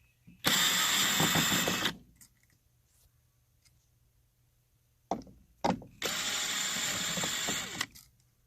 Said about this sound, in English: We're going to remove these 2 Phillips head screws.